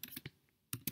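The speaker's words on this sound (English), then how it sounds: "by just typing in, for example, my journal." Several quick keystrokes on a computer keyboard click close by in two short bursts, separated by a brief quiet pause.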